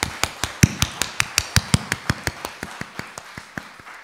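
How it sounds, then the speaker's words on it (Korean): A congregation at an early-morning church worship service claps in a steady, even rhythm, about twenty sharp claps over a few seconds that fade slightly toward the end, with no talking. "좋으신 주님께 우리 감사의 박수를 힘차게 드릴까요?"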